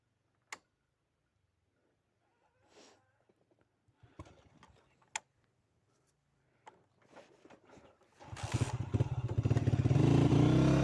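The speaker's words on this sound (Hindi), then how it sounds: "बाइक की आवाज़ तो आ रही है वैसे।" A motorcycle engine on a bike tour near Tilla Jogian, heard faint and far off at first, then rising into a loud, steady rumble over the last few seconds, with scattered ticks and clatter before it.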